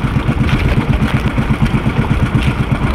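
Fishing boat motor running steadily at sea, a loud continuous low chugging with a regular pulsing rhythm close by, no talking over it.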